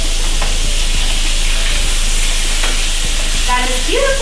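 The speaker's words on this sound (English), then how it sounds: "our salmon is cooking up nicely" Salmon fillets fry in a skillet with a dense, steady sizzle and small crackling pops, loud and close. A brief scrape of a utensil is heard near the end.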